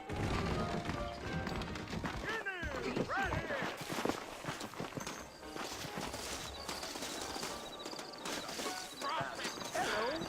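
Horses' hooves clip-clop steadily in the video game Red Dead Redemption, mixed with a whinny and clattering over a busy ambient scene while people talk.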